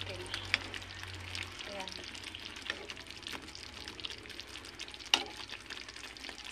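Marinated chicken in sauce with saba banana sizzles faintly in a pan while it is stirred, with soft scrapes and one sharp clink, and a voice speaks briefly.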